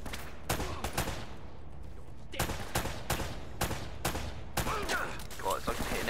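Single and clustered gunshots ring out in Uncharted: Drake's Fortune, sharp and loud at irregular intervals, with a few brief gaps and some talking mixed in.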